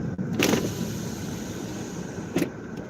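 A car's power windows are run inside the vehicle, giving two short whirring motor sweeps about two seconds apart over a steady background hum, close and moderately loud.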